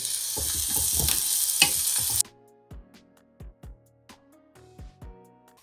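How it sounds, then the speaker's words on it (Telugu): Chopped onion and green chillies frying in hot oil: a loud dense sizzle for about two seconds that drops off sharply, then scattered spoon scrapes and clinks against the pan, close by with no talking. "ఆయిల్ కాగింది కట్ చేసుకున్న ఆనియన్ మిర్చి చేసుకుందాం"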